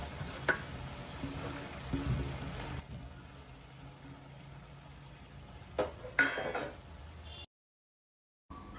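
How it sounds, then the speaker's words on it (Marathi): Fresh dill greens tipped into a pan of sautéed moong dal and masala, with a few soft clinks and scrapes of a spoon against the pan amid quiet kitchen background. "आणि मग ॲड करतोय ही मस्त गार शेपूची भाजी"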